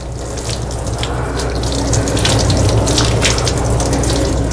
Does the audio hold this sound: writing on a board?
no